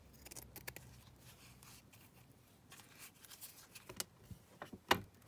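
Scissors snip and trim a fabric tag during a craft session. The sound comes as soft, close-up cuts and rubbing, with a sharper snip near the end.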